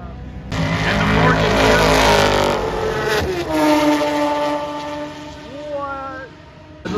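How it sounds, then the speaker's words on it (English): Several open-wheel race car engines roar and whine at a racetrack, rising and falling pitch echoing loudly through the hills, with a long sustained tone fading toward the end. "Sound of open wheel race cars echo through the hills."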